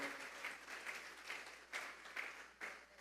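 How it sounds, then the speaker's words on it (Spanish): A church congregation claps together as an offering of praise to God, sustained applause that swells in rhythmic bursts, moderately distant and reverberant. "Vamos a darles ofrenda de palmas a Dios en esta hora."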